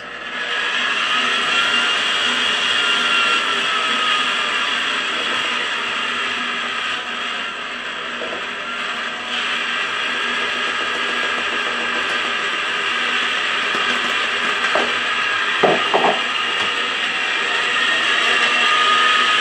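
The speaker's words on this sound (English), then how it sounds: "I'm going to let this mix for maybe another minute or two so it gets well combined" Electric mixer running steadily through low carb pound cake batter after dry ingredients are added, a continuous mechanical whir with a few clicks near the end and no talk.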